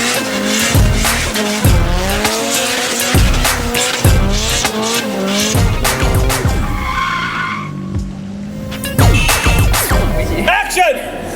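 Nissan GT-R, a 9-second drag car, tearing around a wet park: loud engine roars and repeated tyre squeals and skids in bursts, with voices heard briefly between them.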